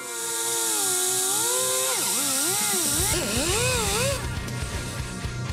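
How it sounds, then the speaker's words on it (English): Power tool cutting into the plastic air box of a Polaris Outlaw 450 MXR quad to make room for a K&N filter, a loud whining cut whose pitch rises and falls as the blade bites and eases. "we're going to have to cut the air box, this little piece back here"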